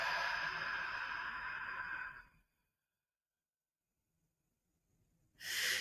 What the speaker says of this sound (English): we can breathe in through the nostrils and then out through the mouth.